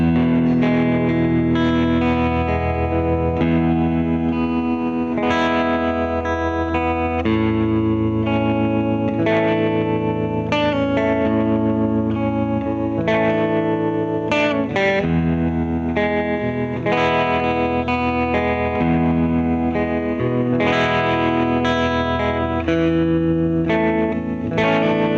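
Electric guitar played through a Universal Audio Astra Trem '65 pedal set to square-wave tremolo, loud and continuous, with the chords chopped into hard on-off pulses and some distortion and reverb, no talking.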